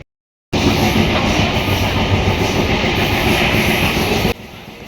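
Inside a moving train bound for Andul station, a loud, steady rumble of wheels and carriage fills the space without a break for about four seconds, then drops away sharply.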